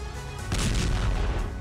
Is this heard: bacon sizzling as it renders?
no